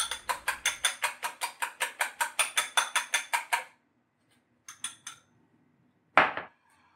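Whisk beating three eggs in a bowl for Japanese curry omurice, a steady rapid run of about eighteen crisp clinking strokes, then a few brief taps and a final sharp knock.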